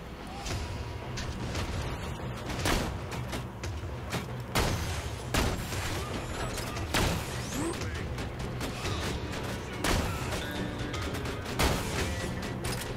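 Sniper rifle fire in Borderlands 2, rounds striking a wall, with several sharp loud shots spaced through dense game noise, explosions and clatter.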